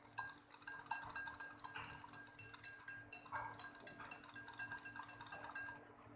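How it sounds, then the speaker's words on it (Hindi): A cup of ghee being beaten in a bowl, giving quick, steady clinks and scrapes of the utensil against the bowl throughout, fairly faint, with no voices. "घी को हम बीट करेंगे।"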